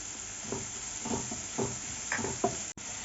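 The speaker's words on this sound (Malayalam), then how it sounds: "ഇതൊന്നും ചെറുതായിട്ടൊന്ന് വാടി വരണ വരെ ഒന്ന് മിക്സ് ചെയ്യാം." Onion and garlic sauté in a pan, a steady low sizzle broken by repeated scraping stirs, about five strokes at an even pace, close and moderately loud.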